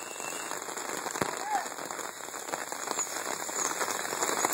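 Steady rain falls during a paintball game in Garça, a constant hiss of drops on surfaces, moderately loud and even, with a few faint sharp pops mixed in.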